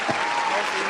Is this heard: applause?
yes